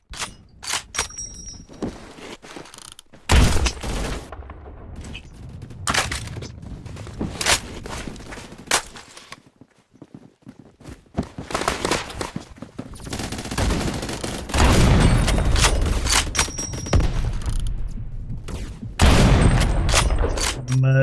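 Gunfire in the shooter Phantom Forces, with bursts of loud shots and weapon handling clicks spread across the span, separated by short quieter gaps.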